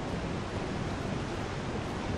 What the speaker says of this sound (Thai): มีน้ำตกด้วย